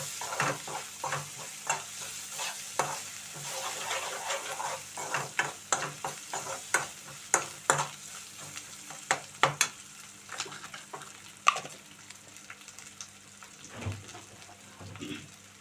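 Ginger garlic paste frying in a hot pan, a steady sizzle broken by frequent scraping and clicking as a spoon stirs it, close by with no talking.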